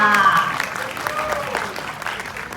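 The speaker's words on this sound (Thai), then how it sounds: "ขอเสียงปรบมือให้กับเฮียปูด้วยค่ะ" Audience applause for Hia Pu, a performer and leader of an Engor troupe, at a Thai short-film event; a burst of clapping that fades over a couple of seconds, with tonal sounds near the start.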